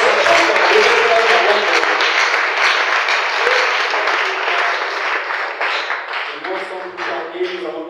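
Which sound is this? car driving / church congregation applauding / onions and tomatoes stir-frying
church congregation applauding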